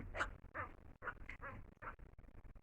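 A duck quacks repeatedly in short, distinct calls spaced about half a second apart, fairly close and otherwise alone.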